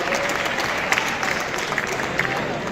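Audience applause welcoming chief guest Yashodhara ji, a steady dense patter of many hands clapping throughout, with a voice faintly audible underneath.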